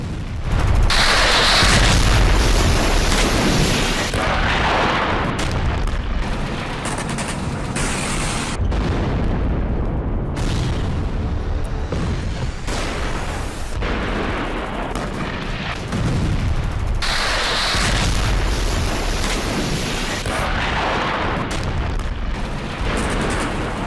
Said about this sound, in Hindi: पाकिस्तान अफगानिस्तान बॉर्डर पर जबरदस्त फायरिंग हो रही है